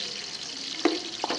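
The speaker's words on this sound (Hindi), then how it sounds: "प्याज है मेरे पास बारीक कटे हुए, ये शामिल कर लेंगे।" Finely chopped onions fry in a pan with a soft, steady sizzle and a couple of brief stirring scrapes, close by.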